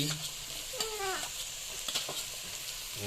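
Green chillies drop into hot oil in a frying pan and sizzle loudly and steadily, with scraping stir strokes and a few faint voices in the background.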